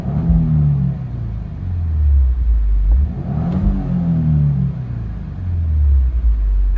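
Engine of a 2024 Subaru WRX with a six-speed manual while driving, heard from inside as a loud, close rumble that revs up, drops back and climbs again through gear changes.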